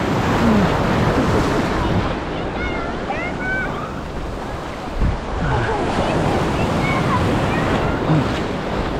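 Ocean surf at Gulf Shores beach in Alabama, a continuous loud roar of breaking waves with a swelling wave surge midway, heavy wind buffeting the microphone throughout and faint voices mixed in.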